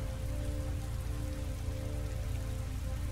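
Heavy rain falls steadily on surfaces in Heavy Rain, a dense, even hiss with a low rumble and faint engine hum beneath, no talk.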